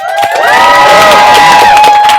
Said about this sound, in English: Can we give Tenny a big round of applause, please?